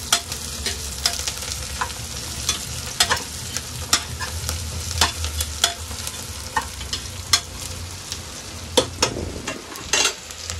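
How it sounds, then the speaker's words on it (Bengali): Steady sizzling of onions frying in a pan, with scattered sharp crackles and spoon scrapes, close and continuous, no voices. "এটা একটুখানি পেঁয়াজটা ভালো মতো ভাজা ভাজা হবে"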